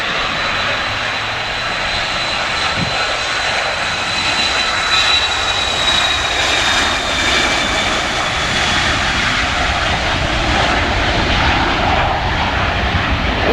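A heavily loaded airliner takes off and climbs out from Manchester, a steady, broad jet-engine roar holding at a strong level throughout, with a faint high whine running through it.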